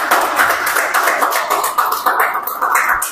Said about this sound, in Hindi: यीशु के लिए एक बार जोरदार तालियां बजाओ